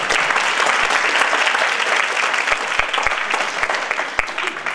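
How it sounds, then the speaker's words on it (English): Steady applause from a crowd at a Korean festival, with dense clapping that holds at an even level throughout. "Please give applause."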